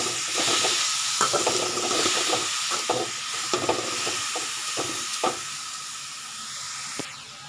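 Grated beetroot sautés in a pan for beetroot rice, a soft hissing sizzle with intermittent spatula scrapes that thin out toward the end, no voices.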